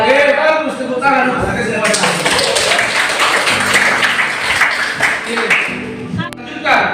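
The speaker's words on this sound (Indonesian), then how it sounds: "Oke, bagus, tepuk tangan." A classroom sociology lesson erupts in applause, a dense burst of many hands clapping together for several seconds, close and loud, fading near the end as a voice returns.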